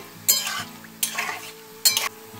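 Palm fruit fritters (taler bora) frying in oil, with three short stirring scrapes over a soft steady sizzle, close up.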